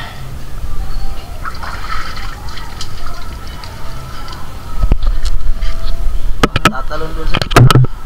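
Water is poured and splashes in uneven gushes and drips, growing busier toward the end, while a person talks over the sound.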